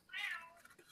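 A single drawn-out cat meow with a rising then falling tone, close and fairly loud, ending in a brief second chirp.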